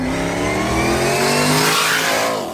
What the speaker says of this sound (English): with the Kong 2650, you get the whine back